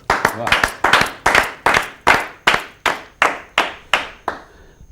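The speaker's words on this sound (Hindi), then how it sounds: "आप उनका स्वागत करें तालियों के साथ" An audience at a Hindi poetry gathering claps in a steady beat, about twelve loud, even claps across several seconds, close and ringing, like a group clapping in unison.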